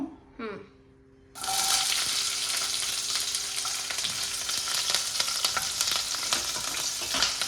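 Green chillies hit a hot kadai at about 1.4 seconds and break into loud, steady frying and sizzling that holds to the end, with small stirring clinks on top. A short voice is heard before the sizzle starts.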